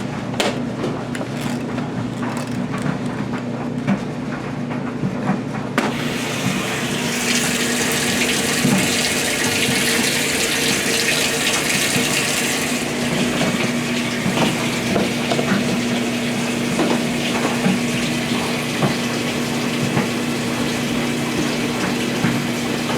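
A washing machine set to a large load on the super setting fills with cold water, a loud continuous rushing stream with a steady pump-like hum that brightens partway through and runs unbroken, with no talking.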